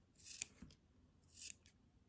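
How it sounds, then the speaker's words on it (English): Two crisp, close snips of scissors cutting the string fringe on handmade macramé earrings, about a second apart, in an otherwise quiet room. "once again we cut the fringe"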